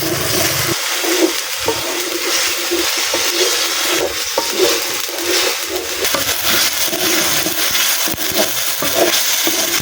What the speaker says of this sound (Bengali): এই মশলাগুলারে খুব ভালো করে এখন ভাজা ভাজা করে নিব।